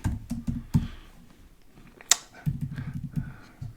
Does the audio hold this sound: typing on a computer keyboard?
yes